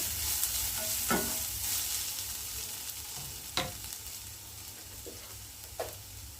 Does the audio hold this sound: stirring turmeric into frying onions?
yes